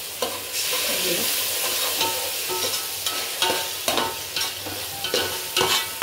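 Tamarind frying in a little oil for a fish sambar gives a steady, close sizzle with repeated scraping stirs of a spoon against the pan, with no talking.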